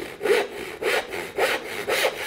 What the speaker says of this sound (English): I'll saw to my baseline and then raise the handle up and saw back across the top